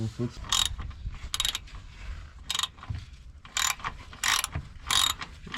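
A hand ratchet clicks in short repeated bursts while tightening turbo downpipe bolts on a Volkswagen Jetta 1.8T, each burst separated by brief pauses, close and fairly quiet.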